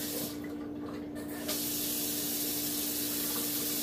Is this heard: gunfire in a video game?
no